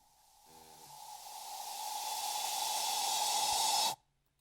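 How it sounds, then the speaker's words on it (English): A white noise riser for an Amapiano track built in FL Studio swells steadily in loudness for about three and a half seconds, then cuts off abruptly. A brief low tonal stab sounds near the start. "The only thing I had to add on the song was this riser"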